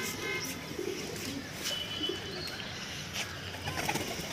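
A pigeon on a rooftop coos softly amid faint chirps and a steady outdoor hiss, with little sign of wing flaps.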